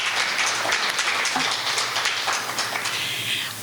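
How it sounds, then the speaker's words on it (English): Applause from a graduation audience at a chamber of commerce leadership ceremony, a dense, steady patter of many hands clapping at once, fairly loud and sustained throughout with no talk over it. "Let's give yourselves a round of applause"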